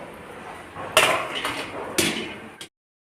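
Dishes clatter and clank as they are handled, with two sharp knocks amid steady running-water hiss, then it abruptly stops.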